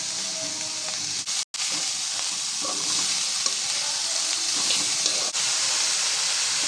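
Cabbage joins green beans and carrots stir-frying in a pan for beef fried rice: a steady, close sizzle with light stirring and one brief knock partway through.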